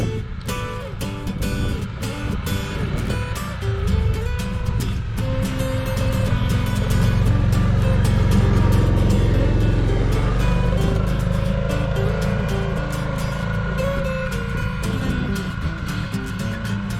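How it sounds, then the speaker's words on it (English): Arctic Cat TRV 1000 XT ATV engine climbing a snowy track, a steady loud motor drone that swells in the middle and holds for the length, with no talk. "currently Joan is riding the bike, and you'll see her come up this track in just a moment"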